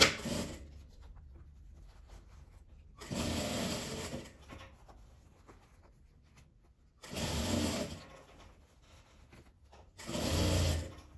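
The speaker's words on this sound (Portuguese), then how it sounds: "Eu vou passar um pesponto aqui em volta dessa parte toda" A sewing machine topstitches around a small multipurpose fabric bag, running in three separate bursts of steady stitching with quiet pauses between them.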